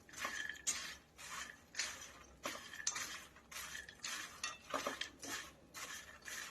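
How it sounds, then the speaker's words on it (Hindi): Makhana chaat being tossed with spices in a bowl, the spoon scraping and clinking against the dish in repeated rhythmic strokes, close and moderately loud with no talking. "तो यहाँ मैं इसे अच्छे से मिक्स कर रही हूँ।"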